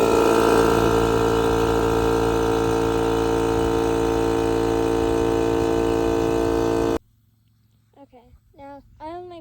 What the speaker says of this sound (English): now you just turn on your compressor and wait for it to fill up